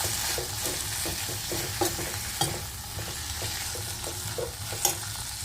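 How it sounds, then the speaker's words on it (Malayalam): Drumstick leaves are stirred in a hot pan for a coconut curry: a soft continuous sizzle with a regular series of light scraping strokes about every half second, close and moderate, no speech. "ഇനി നമുക്ക് നല്ലതായിട്ടൊന്ന് ഇളക്കാം"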